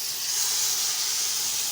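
Marinated chicken tikka hitting a hot pan gives a steady, bright sizzling hiss that holds evenly from start to finish, close and fairly loud, with no talking.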